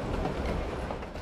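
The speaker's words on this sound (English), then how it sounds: "We can take yet another train." A train rolls past in the video game Gravity Rush, a steady, dense rumble with rail clatter filling the whole moment and no talking.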